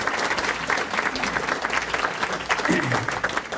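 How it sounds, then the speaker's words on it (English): Steady applause from a crowd at a volunteer appreciation celebration, dense clapping filling the whole stretch at a fairly loud level, with no pauses. "Round of applause."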